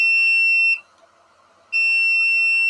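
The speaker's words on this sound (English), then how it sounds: "that's the temperature alarm, I'm assuming, because it's sensing it's below temperature because the lid's off" An incubator's temperature alarm sounds while button quail eggs sit inside with the lid off. It gives two long, loud, steady electronic beeps separated by a short pause, with nothing else heard.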